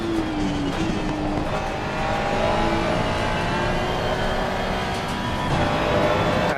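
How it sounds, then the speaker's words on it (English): Race car engine held at full throttle in Assetto Corsa Competizione, a loud continuous roar with steady tone and no pauses. "I just floored the throttle there. Floored the throttle and let the back end come out."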